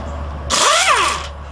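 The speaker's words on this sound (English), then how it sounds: "we're going to use an air gun" An air impact gun spins out an engine bolt in one loud, sustained burst of close, buzzing hammering under a steady low hum, lasting close to a second before cutting off.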